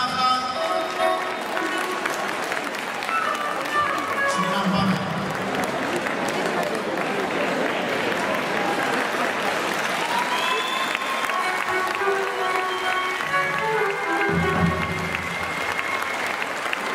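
Sustained crowd applause for young Pontic dancers at a youth Pontic dance festival, loud continuous clapping filling the hall with some voices and cheers mixed in, and brief low thumps near the end.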